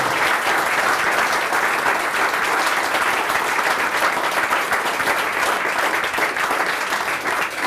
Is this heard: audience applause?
yes